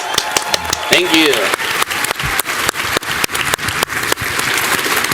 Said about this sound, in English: So please give Renee a round of applause